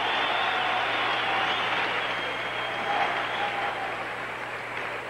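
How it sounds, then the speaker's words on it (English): A tennis crowd at the 1982 Michelob Light Challenge final between Jimmy Connors and John McEnroe stands, clapping and cheering in a dense, steady roar that carries on unbroken throughout. "People are just standing and cheering."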